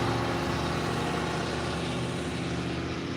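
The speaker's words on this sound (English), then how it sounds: "I love loud trucks." A loud truck engine rumbles steadily at close range, a dense, unbroken drone with no other sounds standing out.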